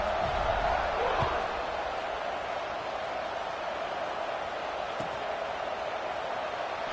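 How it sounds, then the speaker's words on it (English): A stadium crowd roars steadily in the NCAA 26 college football video game during an online dynasty match of USC at Florida State. The dense, even cheering fills the whole stretch with only slight swells. "this crowd is feeling themselves after that last drive"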